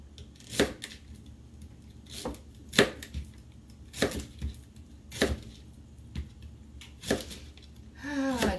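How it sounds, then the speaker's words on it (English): A knife chops fennel on a cutting board in a run of sharp, separate strokes with uneven pauses between them, close by, with a short rustle at the end. "Chopping madness tonight."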